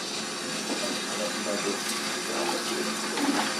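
Running tap water pours steadily in a home kitchen while a utensil is rinsed out, a continuous close splashing hiss with faint clatter.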